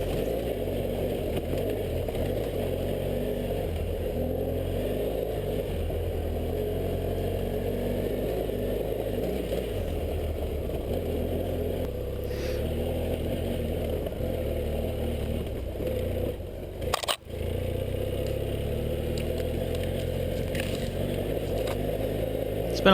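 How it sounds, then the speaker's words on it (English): A BMW F800GS motorcycle engine drones steadily while riding a wooded off-road trail with hill climbs, a continuous close hum with scraping brush and one brief dip near the end, with no talk. "The F800 doesn't really like cruising along in first gear because the throttle's kind of snatchy"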